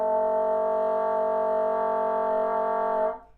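A single sustained bassoon multiphonic, a rich buzzing chord of several pitches held steadily for about three seconds before cutting off, played alone.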